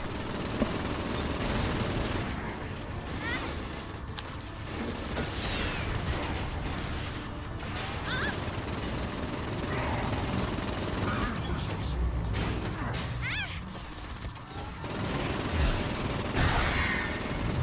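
A video-game weapon fires continuously with infinite ammo, producing dense, loud bursts of gunfire layered over booming effects and background game sound, with no pause throughout.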